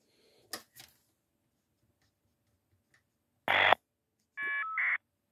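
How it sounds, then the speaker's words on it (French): An old 1960s Belgian ATEA telephone test handset held beside the earpiece carries ringing signal trains and a caller ID carrier: faint clicks, then a loud buzzy ring burst followed by two short tonal bursts, with silence between. "On entend le premier train de sonnerie."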